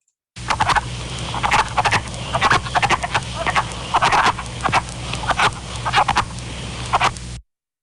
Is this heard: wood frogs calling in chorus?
yes